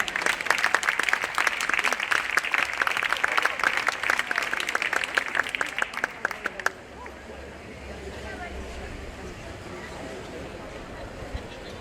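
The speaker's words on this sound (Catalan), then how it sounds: "Un fortíssim aplaudiment pel nostre Coco petit" Audience applause at a choir concert during a neighbourhood festa major in Barcelona's Eixample, loud dense clapping for about seven seconds before cutting off abruptly to quiet room noise.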